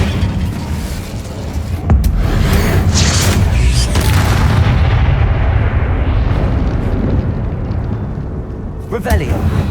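A fiery Incendio spell blast from the Hogwarts Legacy video game, a loud booming burst around two seconds in that rolls on as a sustained roar of game effects and rumble.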